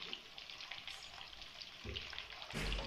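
Chicken kofta meatballs fry over a low flame in a pan, giving a faint, steady sizzle and crackle with a few soft stirring knocks and a louder burst of spitting oil near the end.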